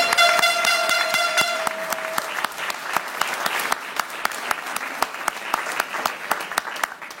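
A crowd applauds and claps for Patrice Lumumba at a Pan-African solidarity day gathering in Paris, a dense, steady wash of clapping that follows a sustained horn-like tone at the start.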